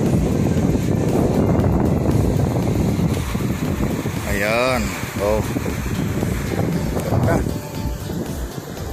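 Steady wind roars across an open white-sand beach at Panganiban, a broad constant rush that fills the whole stretch while someone talks briefly over it partway through.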